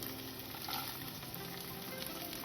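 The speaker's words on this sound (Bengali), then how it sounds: "এবার আমি এর মধ্যে দিয়ে দেব কেটে রাখা গাজর কুচিগুলো" Chopped carrots tossed into onions frying in a pan for egg chicken fried rice, giving a steady, close, continuous sizzle with faint stirring and no talking.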